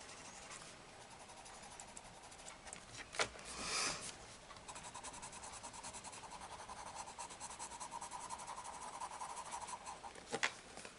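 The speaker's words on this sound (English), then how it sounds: "You can hear the pencils on the page" Soft, steady scratching of colored pencils on paper, close and quiet, with a few sharper strokes and faint rain-like hiss behind.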